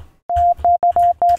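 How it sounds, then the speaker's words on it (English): Pure sine wave synth tone from the Serum synthesizer, a steady mid-pitched beep sounding in five short clipped pulses of uneven length, clean and loud with short gaps between. "We'll get a sine wave."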